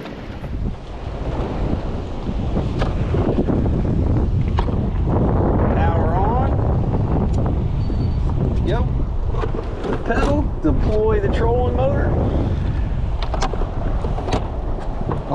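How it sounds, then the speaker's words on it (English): Boat running on a trolling motor over open water, with heavy wind buffeting the microphone throughout; someone talks over the steady rumble and gusts. "put the trolling motor in and get going"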